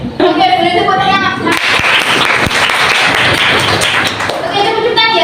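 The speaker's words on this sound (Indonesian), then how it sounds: "Oke, boleh tepuk tangan." Vocational high school students clap at a health talk on gastritis, a dense burst of applause from a room full of teens, loud and close, with voices talking and calling out over it.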